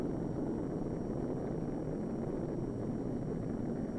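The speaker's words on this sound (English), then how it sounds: "the rocket plane is carried to high altitude by a large transport plane" A large transport plane carrying a rocket plane to high altitude drones steadily in flight, a constant broad rumbling roar with no breaks, moderately loud and unchanging.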